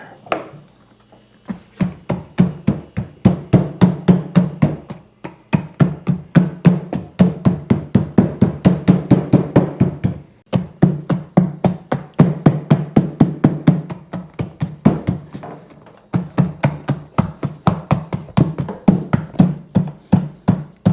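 Rapid repeated rubber mallet blows while installing a trim mat on a Yamaha SuperJet, a steady fast rhythm of dull thuds in bursts with brief pauses, close and loud.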